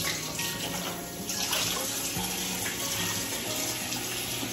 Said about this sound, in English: Once I drain it, I still like rinse it off with water.